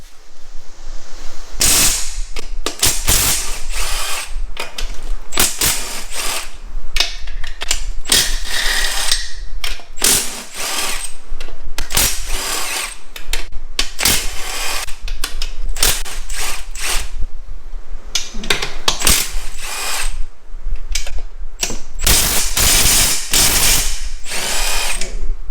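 A ratchet cranks bolts out of a Tremec TR3650 transmission case in rapid clicking bursts that repeat throughout, loud and close, with brief pauses between runs and no talking.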